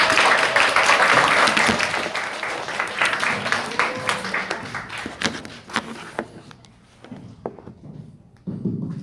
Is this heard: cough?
no